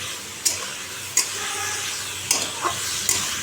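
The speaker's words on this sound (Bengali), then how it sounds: "কাঁচা লঙ্কা লম্বা লম্বা করে কেটে রেখেছি টমেটো কেটে রেখেছি এটা এখন একটু লাল করে ভাজবো" Green chillies and tomatoes fry in a pan with a constant close sizzle, broken by a few sharp clicks and spatters as they are stirred.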